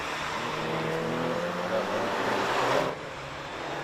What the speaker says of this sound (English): So this currently is the BMW Mini Tour coming through.